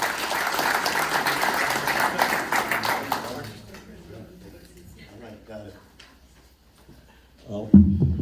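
Loud audience applause at a history lecture fills the first three seconds, then fades into quiet room noise before a voice begins near the end.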